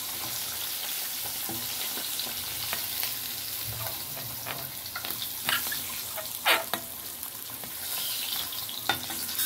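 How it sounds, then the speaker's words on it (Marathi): Fish pieces frying in oil in a pan, a broad steady sizzle and crackle with scattered spattering pops and occasional scrapes, fairly quiet and close, with no voices. "हे पण तशीच फ्राय करून घेऊ। ही पण मच्छी फ्राय झालेली आहे"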